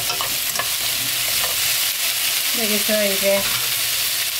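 Cabbage and vegetables stir-fried in a pan: loud, steady sizzling with scraping strokes close by, and a voice speaking briefly partway through.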